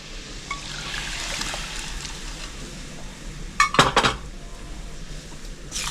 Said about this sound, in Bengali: প্রেসারটা আমি অল্প জল দিয়ে ধুয়ে দিয়ে দিলাম।